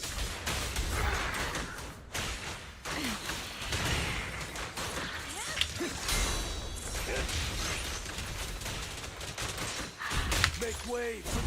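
Rapid bursts of gunfire from the video game Zenless Zone Zero crackle under dense game music and effects, with a brief voice-like line near the end.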